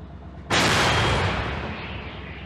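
A single loud, sharp blast from a KRAB self-propelled howitzer erupts suddenly, followed by a long rumbling, roaring decay that slowly fades out.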